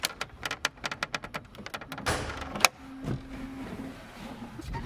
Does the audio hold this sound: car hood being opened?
yes